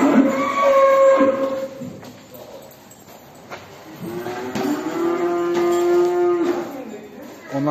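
Heifers moo loudly in long, drawn-out calls as they are moved out of a barn, one lowing near the start and another sustained call later, with brief quieter gaps between.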